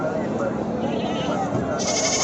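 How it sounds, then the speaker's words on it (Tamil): Many goats bleat at the Samayapuram goat market in Tamil Nadu, a dense, continuous chorus of crowded livestock calls mixed with background voices and market bustle. "அனைத்து வகையான ஆடுகளும் இங்கு விற்பனைக்காக வரும்"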